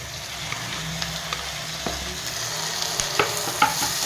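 Onion, capsicum and tomato sautéing in a pan: a continuous hissing sizzle overlaid with a handful of sharp spatula taps and scrapes, close and moderately loud.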